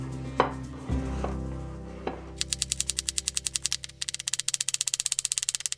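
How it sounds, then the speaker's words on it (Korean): A knife julienning peeled carrots into 5 cm strips chops rapidly and steadily on a cutting board, a fast even run of crisp taps after a few scattered knocks. "당근은 껍질을 제거해 주시고 5cm 길이로 채 썰어 주세요"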